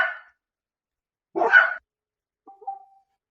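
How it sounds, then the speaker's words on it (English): Dogs barking in short bursts at a house, a brief sharp bark at the start, a louder, fuller bark in the middle, then a few faint whimpering yelps, with silence in between. "My dogs went ballistic and I had to kind of stop and get them under control."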